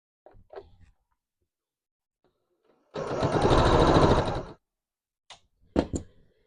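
A sewing machine runs a gathering stitch through blouse fabric in one steady burst of about a second and a half, loud and close, with a few soft handling knocks before and after.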